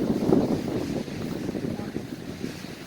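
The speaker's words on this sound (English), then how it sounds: "Wow, hear that wind going." Wind blowing outdoors at a park spot used for weddings and picnics, a steady low rumbling gust buffeting the microphone, strongest at the start and then easing to a constant roar.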